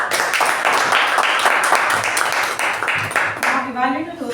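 Applause from a Toastmasters club audience rolls on in a dense patter of clapping, then fades as a voice begins speaking near the end.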